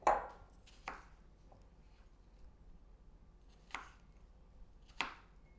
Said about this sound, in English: Go ahead and keep chopping on that.